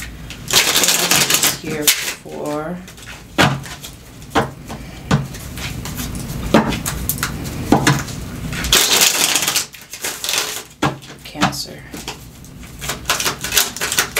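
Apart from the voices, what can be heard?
tarot cards being shuffled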